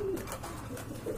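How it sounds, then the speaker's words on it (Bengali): Pigeon cooing from a feather-footed (muff-legged) pigeon in a pet-pigeon selling setup, short low murmuring coos that run steadily through the moment, fairly close and moderate in level. "টানা পায়ের কবুতর।"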